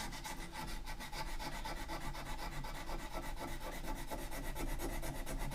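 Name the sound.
hand sanding a wooden knife handle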